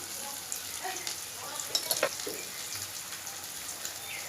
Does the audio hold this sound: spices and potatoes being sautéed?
yes